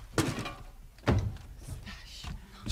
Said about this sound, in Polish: Zamknij drzwi.